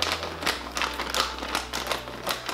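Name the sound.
opening a packet of horse food treats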